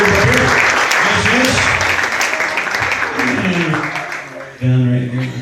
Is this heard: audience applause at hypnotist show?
yes